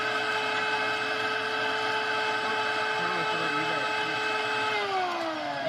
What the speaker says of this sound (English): We got good suction.